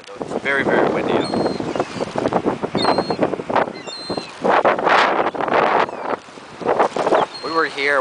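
Strong seaside wind buffets the microphone in loud, gusty roars that rise and fall. People talk throughout, and some high bird calls come through.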